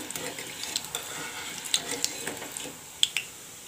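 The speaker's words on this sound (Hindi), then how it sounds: "अब इसमें हम सबसे पहले चकोली को फ्राई करेंगे।" Besan chakli deep frying in hot oil gives a soft, steady sizzle with a few sharp crackles and small pops. The sound is faint and close, with no talking.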